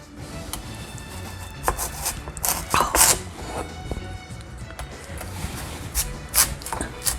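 Knife chopping through a heavy, hard Korean radish (mu) on a cutting board for beef soup, with irregular sharp chops and thuds, some louder, over a faint background hiss.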